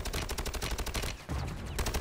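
Rapid bursts of automatic gunfire in the Warzone video game, loud and close, firing almost continuously with a brief pause before the shooting resumes.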